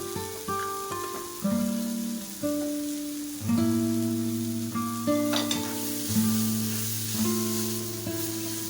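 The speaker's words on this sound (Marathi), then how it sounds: "मॅश केलेलं हे सगळं मिक्स करायचं आहे" A mashed mixture with turmeric and chili powder stirred in a pan makes a crackling sizzle and scraping stirs. A tuneful, note-by-note background plays over it.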